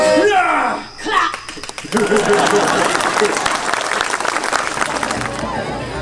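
Audience at a family theatre show at an outdoor playhouse breaks into loud, sustained applause and cheering after a song, with a singing voice fading just before the clapping swells.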